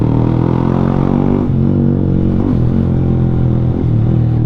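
A Yamaha Sniper 155 motorcycle fitted with a racing ECU runs hard on a dyno, its engine holding a loud, close, buzzing drone that dips briefly twice before pulling back up, with no voices.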